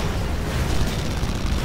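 Explosions in the video game Red Faction Guerrilla, a dense, rumbling blast that fills the whole short moment, loud and close with no speech over it.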